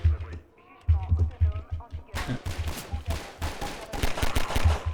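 Rapid bursts of gunfire from enemies firing at the player in Half-Life 2: Episode One, dense and close, with someone talking over the shooting.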